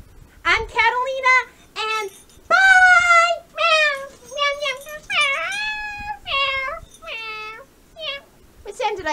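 A voice imitates a cat, making a string of drawn-out, wavering meows in quick succession, close and clear, with short gaps between them.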